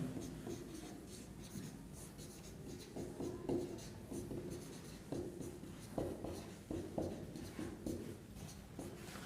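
Steady pen-on-paper scratching as a definition is written out, close and continuous with faint rhythmic strokes throughout, no voice over it.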